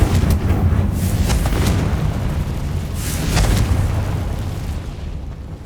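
A Confringo blasting spell in Hogwarts Legacy on PS5 goes off as a loud, rumbling explosion, then a second deep boom follows a couple of seconds later and fades into a low roar.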